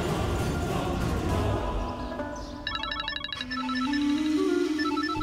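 Mobile phone ringing with an electronic ringtone melody that starts midway, repeating short tonal notes close by over steady background sound, no talking.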